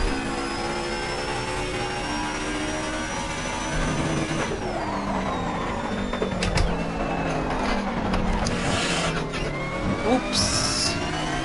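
A touring car engine drones steadily in a racing video game, its pitch sliding down and up through gear changes, with brief clicks and bumps of contact and a faint voice underneath.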